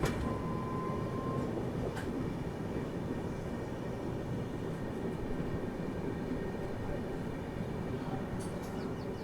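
Shalimar SF Express arriving at Rayanapadu station, a steady low rumble of rolling coaches throughout with a brief faint whistle-like tone near the start and occasional clanks, no talking.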